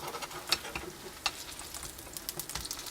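A potato rosti pancake fries in a pan on a Cadac Safari Chef camping stove in a campervan, a quiet continuous sizzle broken by scattered crackles and small pops close by.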